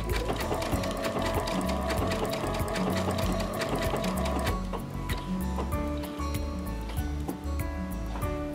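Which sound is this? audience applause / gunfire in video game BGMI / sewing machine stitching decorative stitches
sewing machine stitching decorative stitches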